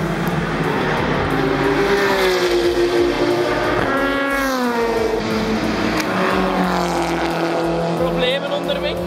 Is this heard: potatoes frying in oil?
no